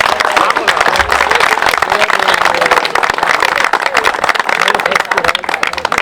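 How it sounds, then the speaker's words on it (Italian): Crowd applause for the young people at an outdoor summer community festival in Mestre, loud dense clapping that continues steadily throughout with voices mixed in. "E facciamogli un applauso."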